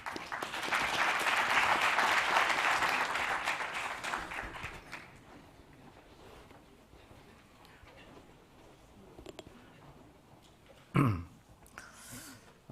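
Applause from a conference audience welcoming a government minister to the stage at a global health forum on childhood pneumonia, a dense burst of clapping that fades over about five seconds into quiet room tone, followed by a brief knock or shuffle.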